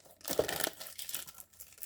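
A Panini Prizm trading card pack torn open up close, a short rough rip with crinkling foil wrapper, loud and alone.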